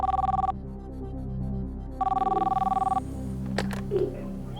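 A telephone rings out as a call is placed from a quiz show studio to a contestant in Dharwad, two bursts of a tonal electronic ring separated by a pause over a sustained musical backing, with a brief clatter near the end.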